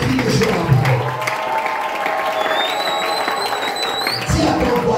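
Applause and crowd noise fill a church as the congregation acclaims, a dense continuous clatter of clapping with voices and a brief whistle-like tone partway through.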